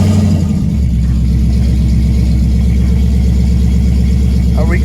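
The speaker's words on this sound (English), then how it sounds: "Let's see how she sounds." 2017 Ford Mustang GT V8 firing up with freshly serviced spark plugs, a loud crank and catch followed by a deep, steady, slightly high idle rumble close to the car.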